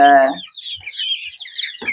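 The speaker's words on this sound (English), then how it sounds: "Currently in the coop, we have 44 chicks" Chickens in a coop housing dozens of chicks and many roosters: a short harmonic squawk opens, followed by a steady jumble of high chirping peeps, close and moderately loud, with another brief call near the end.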